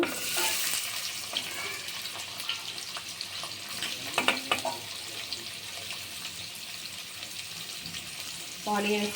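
Onions frying in oil with mustard seeds and cumin give a close, crackling sizzle with busy popping, plus a couple of brief clatters from stirring or utensils; no one talks.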